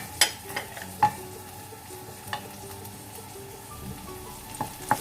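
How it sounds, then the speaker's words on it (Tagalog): Garlic sautéing in a pan for a Filipino pancit canton, a steady soft sizzle broken by a few sharp utensil clinks and scrapes against the pan, close and fairly quiet with no talking. "Then, isusute din natin yung garlic."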